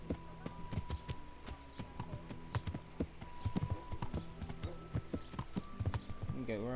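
A horse runs in the medieval video game Kingdom Come: Deliverance, with steady clip-clop hoofbeats over game music and an occasional voice.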